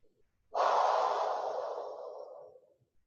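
A single long, forceful exhale through the mouth during a core workout, close to the microphone, starting abruptly and fading out over about two seconds, followed by quiet.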